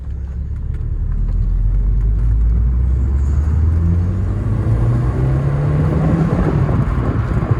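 A turbocharged Audi TT on old tires accelerates hard on a road, its engine note climbing steadily through a long pull, loud and close from inside the cabin.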